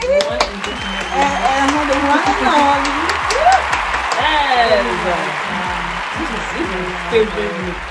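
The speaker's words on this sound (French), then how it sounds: "applaudissez pour Amanda s'il vous plaît" At a spring outfit fashion show, an audience claps in scattered bursts, most distinct at the start, while people talk loudly over it and the applause fades beneath their voices.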